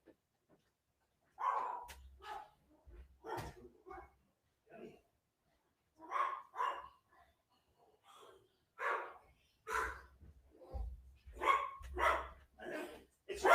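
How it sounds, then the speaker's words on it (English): A pet dog named Spike barks at the mailman indoors, letting out loud, repeated barks in uneven bursts with short pauses and some snorting breaths between them. "My dog is barking like crazy."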